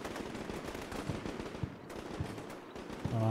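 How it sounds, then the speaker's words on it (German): Dense, continuous small-arms fire from a window in the tactical war game Combat Mission Shock Force 2, with steady crackling shots at moderate volume and no voices. "wie ich sehe, schießen sie mit ihren Pistolen aus dem Fenster"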